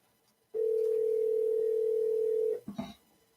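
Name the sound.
telephone ringing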